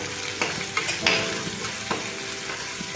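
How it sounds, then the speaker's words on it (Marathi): Masala gravy sizzles and fries in oil in a pan, a soft steady crackle broken by a few sharp scraping stirs, close and fairly quiet with no talking. "आता याला मस्त तेल सुटेपर्यंत फ्राय करून घेऊया"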